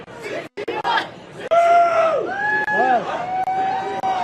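A crowd at a women's cross country championship roars loudly and continuously, with raised voices and whoops cutting through the broad din.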